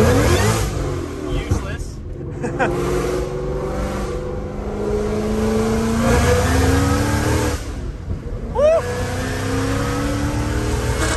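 Ford Mustang engine revving and pulling hard through the gears, a loud sustained roar with rising pitch sweeps, heard from inside the car with excited voices talking over it.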